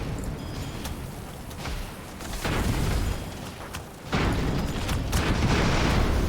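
Explosions from ship weaponry in the airship battle game Airships: Conquer the Skies, heavy booming bursts swelling and rumbling in waves over about six seconds, loud and dense with no talk.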